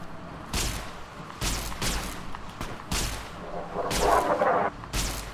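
Gunfire from the video game Fallout: New Vegas: a run of loud, sharp shots arriving in separate bursts about every second, each a heavy booming crack with a short decay, with no voices over it.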